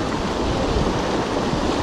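Strong wind buffets the microphone beside a Pyrenees mountain stream, a loud, continuous rushing roar that blends with the flowing water.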